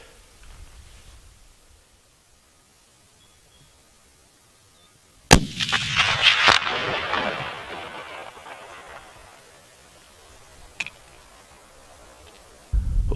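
A single sharp rifle shot fired at a stag in soft velvet during a hunt in Australia, roughly 200 yards out, loud and abrupt after a near-silent lead-in, followed by a long rolling echo and a faint later crack.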